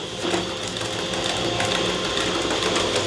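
A PASTAMATIC filament spool winder runs steadily, its motor and guide mechanism moving the filament left and right onto the spool in a continuous, even mechanical whir with no pauses.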